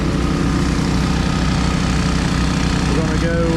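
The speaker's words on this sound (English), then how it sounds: "but I got the 3-inch pump going." A 3-inch water pump engine runs steadily beside an icy pond on a snowy day, a loud, close, continuous chugging idle with no break.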